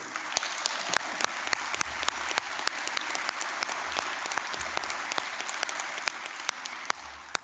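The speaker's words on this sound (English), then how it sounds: "I wasn't going to let you clap them there, but that's all right." Audience applause for the piano, trumpet and violin musicians at a college graduation ceremony; a large hall full of clapping, sustained and even, with sharp individual claps standing out against the wash, fairly distant and moderate in level.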